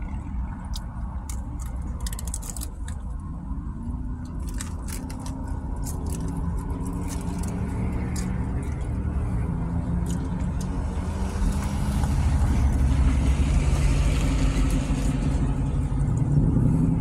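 A car driving on the road, a steady low engine rumble and tire roar that grows louder toward the end, with faint light jingling rattles inside the cabin and no talk.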